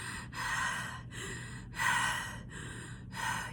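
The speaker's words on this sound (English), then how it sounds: "my normal breath is a conscious breath, which is a connective breath." Deep connected breathing done as a breathwork demonstration, with a series of long, loud inhales and exhales close up and alone, each flowing straight into the next with only short pauses between.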